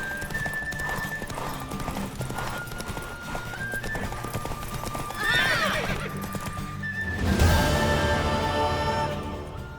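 Rhythmic hoofbeats of a mare clip-clop steadily throughout, with two loud neighs rising in the middle and near the end, over faint background music, from the video game The Witcher 3: Wild Hunt.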